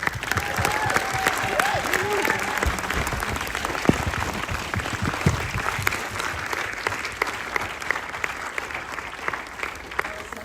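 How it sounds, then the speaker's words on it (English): Sustained applause from an audience at a documentary film screening at ACMI in Melbourne, dense clapping at steady volume for several seconds with a few louder claps standing out. "could we perhaps give another round of applause?"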